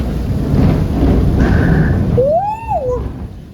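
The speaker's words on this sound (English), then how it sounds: "Mama Lou, you afraid lightning and thunder?" Thunder rolls as a loud, low, sustained rumble during a rainstorm, with rain hiss underneath and a brief whistling tone near the end.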